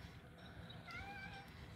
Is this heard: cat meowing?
yes